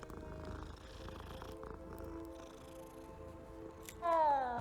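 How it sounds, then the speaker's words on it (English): A cat in the game Hogwarts Legacy purrs softly as it is petted, a low steady rumble beneath game music, ending in a brighter rising tone near the close. "I just pet the cat again"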